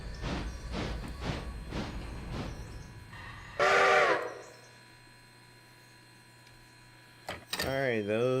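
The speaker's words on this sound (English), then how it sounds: "I love doing a little bit of shunting." In the Railroader video game, a train shunts with a run of rhythmic rail clicks, then a loud whistle blast and a low steady rumble, with another rising tone at the end.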